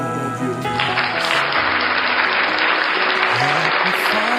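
A church congregation applauds and cheers during a worship celebration, with loud, dense clapping that swells in after a short musical opening and continues steadily over the music.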